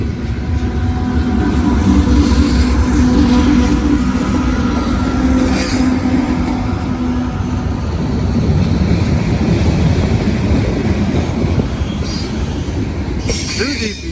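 A CSX freight train with double DPU locomotives rolls past close by, a loud steady roar of railcars with wheel squeal and faint clickety-clack running the whole time, no voices.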